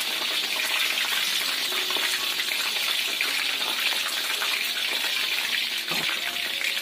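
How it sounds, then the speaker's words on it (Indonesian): Steady, loud bubbling hiss of chicken wings deep frying in hot oil, continuous and close, with faint occasional clinks underneath. "Goreng sampai coklat kemasan."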